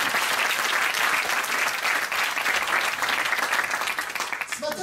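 A church congregation applauding during a Sunday service, a dense, steady burst of clapping from many hands that fills the room for about five seconds and then begins to thin out slightly at the end.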